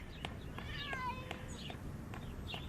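A cat gives a short, clear meow that rises and then falls, with a few light taps and rustles around it in an otherwise quiet indoor scene.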